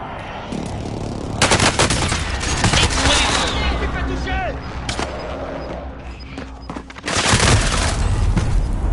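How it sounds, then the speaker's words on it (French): Video game gunfire in an online shooter match, bursts of rapid shots and booming blasts layered with a precision bombardment, loud and dense with players talking over it. "Merde, on me tire dessus"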